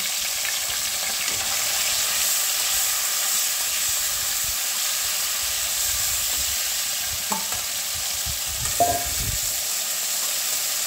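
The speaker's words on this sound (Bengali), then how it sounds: "এই মাছগুলোকে এক এক করে আমি ভেজে নেব, ভালো করে ভেজে নেবো মাছগুলোকে।" Steady sizzle of katla fish pieces frying in hot oil, a continuous crackling hiss with a couple of faint clinks near the end; no voices.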